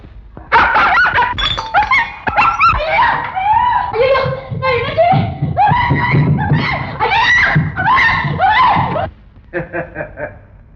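A shop dog in a Tamil film scene barks repeatedly and frantically, loud, close and uneven, mixed with screaming and excited voices, and the barking continues for most of the stretch before fading into a few shorter yelps.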